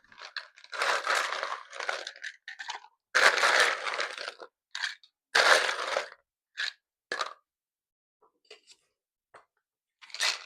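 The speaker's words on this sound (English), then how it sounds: "We are going to fill this all the way up to the top with ice" Ice cubes fill a cocktail shaker in a series of separate crunchy, rattling bursts of different lengths with quiet gaps between them, heard up close with no talking.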